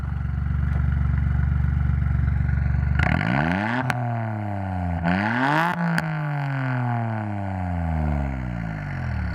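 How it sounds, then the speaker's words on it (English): A Suzuki Alto Works with an aftermarket exhaust idles with a steady low drone, then revs sharply several times, the pitch climbing and falling in quick bursts before settling back, loud and close. "Let's have a little taste of the exhaust, shall we?"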